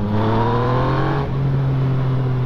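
A Yamaha XSR 900 triple-cylinder motorcycle engine drones loud and close with a steady, harmonic-rich tone that eases slightly partway through, heard alone without speech.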